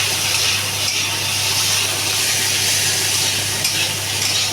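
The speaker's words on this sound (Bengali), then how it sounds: "আলুটা ভালো করে একটু ভেজে নিয়ে একটু ভাজিয়ে ভাজতে হবে" Potatoes fry in a pan with a loud, steady, close sizzle that never lets up, overlaid with the continuous scraping of stirring.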